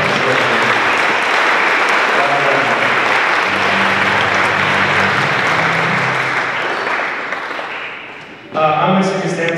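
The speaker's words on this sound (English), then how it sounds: "we do a quick round of applause for her" A school ceremony audience gives a loud, dense round of applause that holds steady, thins briefly, then swells again near the end, with faint voices mixed in.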